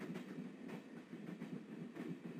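Rhythmic clickety-clack of a moving train carriage in the Broken Sword point-and-click game, steady repeating wheel beats over a low rumble, no voices.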